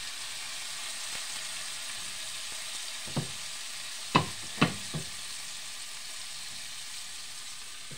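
Salmon fries in oil in a large pan, giving a steady, even sizzle with a few sharp pops and spatters clustered near the middle.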